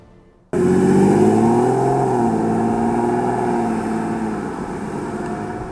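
A 2023 Toyota Prius Prime plug-in hybrid in top XSE Premium trim drives along, its powertrain cutting in abruptly as a loud, close, steady hum with a slight pitch rise that eases off slowly, with no talking.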